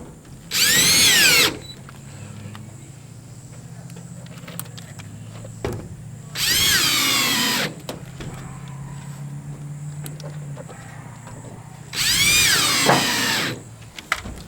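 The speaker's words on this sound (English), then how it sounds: "when you're screwing in these mobile home windows" A power drill drives screws into mobile home windows in three loud bursts of whirring, each lasting about a second and a half, separated by quieter pauses with faint handling noises.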